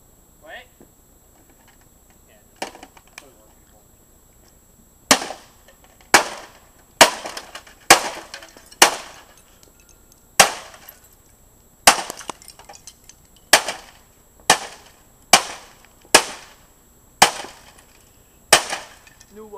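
A baseball bat smashes a fax machine in a string of about a dozen loud, sharp cracking blows, spaced roughly a second apart after a few scattered early hits, with plastic debris clattering between strikes.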